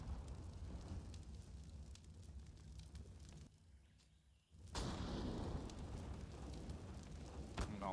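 A Molotov burning in Counter-Strike during a professional match, heard as a dense roaring, crackling fire that drops out briefly mid-way and then returns louder and fuller, with faint game ambience underneath.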